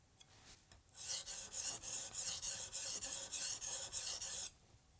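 Wusthof Classic chef's knife drawn across a whetstone in rapid, steady rasping strokes, about a dozen close, even scrapes after a quiet start, fading to silence near the end.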